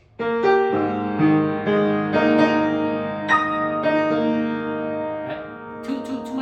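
Piano notes played one after another without the sostenuto pedal, each chord cutting off the earlier ones rather than letting bass tones ring, clear and close with no talking.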